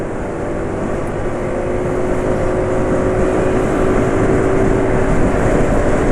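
An engine runs on oil meant for STIHL chainsaws, held at a sustained high RPM: a constant, loud, droning whine with no change in pitch or level throughout.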